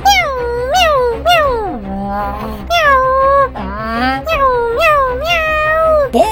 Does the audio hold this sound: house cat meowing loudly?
yes